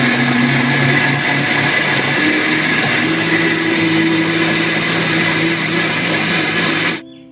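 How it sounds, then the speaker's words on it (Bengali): An electric grinder churning soaked rice into fine batter for Poush Parbon pitha, a steady loud whirring motor drone with a rough grinding texture that runs continuously and then cuts off abruptly near the end. "ব্যাস চালও খুব মিহিভাবে বাটা হয়ে গেছে।"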